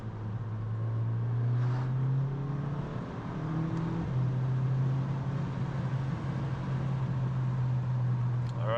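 A steady low engine drone from a rebuilt VW Golf 5 GTI DSG on the move, stock exhaust humming with a slight rise in pitch as it accelerates, heard from inside the cabin.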